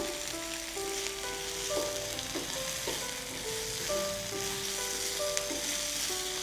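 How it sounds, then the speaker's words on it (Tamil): Cut idli pieces are sautéed with onions in a pan, giving a continuous soft sizzle with occasional stirring scrapes, while a gentle melodic tune plays underneath. "நம்ம கட் பண்ணி வச்சுக்கூடிய இட்லியை இதில் போடணும். போட்டு நல்லா வதக்குங்க."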